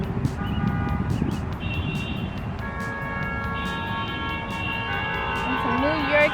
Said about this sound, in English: Some New York City traffic.